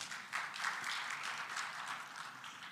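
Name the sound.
audience applause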